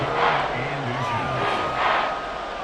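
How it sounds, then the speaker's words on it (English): A football stadium crowd roars steadily at a Vikings vs Panthers game, trying to force a false start on third and inches; the broad, continuous din holds throughout with a few swells and faint shouts. "This crowd trying to force a false start here."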